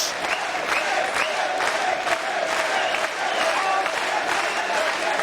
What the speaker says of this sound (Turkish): Seyirciden alkış topluyor bu maç.